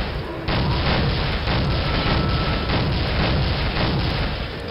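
A rocket launcher explosion in the shooter game Soldier of Fortune gives a sudden loud boom followed by a dense, sustained roar of blast noise lasting several seconds.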